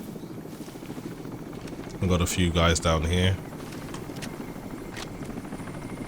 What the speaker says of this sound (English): if this helicopter sees you, it will start to attack. I can hear it, but I can't see it though.